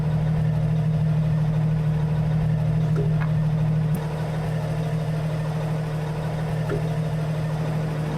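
A Peterbilt 389 truck in American Truck Simulator idles steadily, a loud, even low rumble with a constant drone and a couple of faint clicks over it, no voices.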